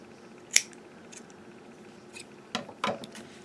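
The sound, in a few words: scissors cutting yarn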